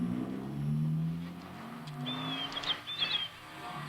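A vehicle engine starts and pulls away at close range, a low droning revving that fades, with faint high chirps in the background.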